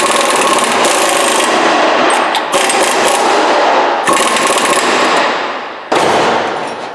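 An impact wrench runs a wheel hub spindle nut down on a Chevy GMC 2500HD in loud, continuous hammering bursts with brief pauses between them, very close.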